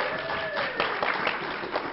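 Audience applause at a live horror movie debate panel at a comic convention, a dense steady patter of clapping with cheering voices, held loud throughout.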